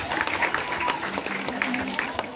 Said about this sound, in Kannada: ಇನ್ನೊಂದು ದೊಡ್ಡ ಚಪ್ಪಾಳೆ ಬರಬೇಕು.